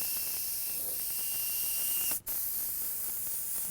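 A paint spray gun gives a steady, loud hiss, spraying candy red paint continuously, broken by one brief pause partway through, close to the listener.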